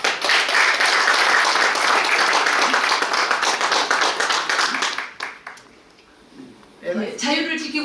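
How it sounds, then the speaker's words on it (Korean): Audience applause at a founding rally in Korea, a loud, dense wash of clapping for about five seconds that then fades into a brief lull before a voice starts speaking. "박수 부탁드립니다."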